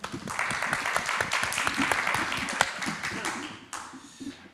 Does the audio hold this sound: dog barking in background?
no